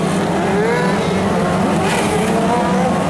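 Engines of 600cc sprint race cars at a dirt oval rumble steadily as the field is paced behind a pace four-wheeler, a loud continuous drone with shifting pitch from several cars close by.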